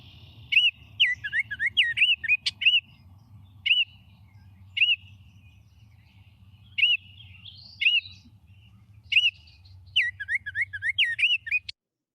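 A songbird repeats a bouncy, looping phrase mixed with scratchy notes in several clear bursts with pauses between them, over a low steady background rumble.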